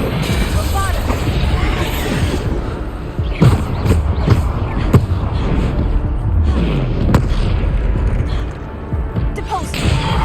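Bombarda explosion spells go off during a Hogwarts Legacy trial, with several dull bursts and thumps over a continuous bed of magical combat effects, and a voice talking throughout.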